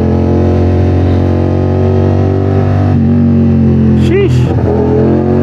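A 450SR/SS sports motorcycle engine revs steadily and loudly at close range on a night ride, the tone shifting briefly near the end while a voice exclaims over it.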